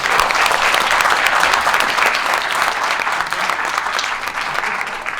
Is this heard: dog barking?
no